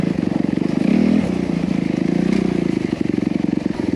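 A Honda CRF250R motocross dirt bike idles close by with a rapid, steady four-stroke thump. It swells in a brief blip of revs and then settles back to a rough, even idle for four seconds.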